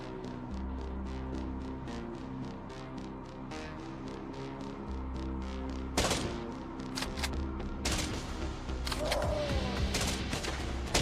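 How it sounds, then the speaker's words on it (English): Assault rifle fire in a zombie survival video game: a steady run of rapid, evenly spaced shots over a low droning backdrop, then heavier, louder bursts of overlapping gunfire near the end. "Oh, they got an assault rifle too."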